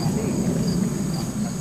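Honey bees buzzing around a hive during a mite treatment with formic acid, a steady close insect drone with no talk.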